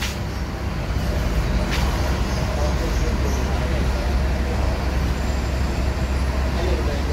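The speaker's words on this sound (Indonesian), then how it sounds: "Nah itu ada bus masuk ke loketnya ya," A bus pulling into a ticket office in Palembang at night, a loud steady low engine rumble with road and traffic noise throughout, and faint talk underneath.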